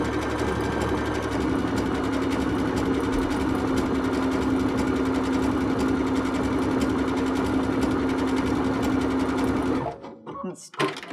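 A sewing machine runs continuously for about ten seconds, stitching a decorative stitch along welt cord with a close, steady mechanical hum and rapid needle clatter, then stops abruptly, followed by a few faint handling noises.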